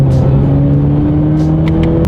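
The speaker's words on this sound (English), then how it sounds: "let's do that acceleration and see how quickly we can get this 2019 Camaro up to speed" Loud, steady engine drone from a turbocharged 2019 Chevrolet Camaro under hard acceleration, a constant close-up roar with a rising tone and no speech.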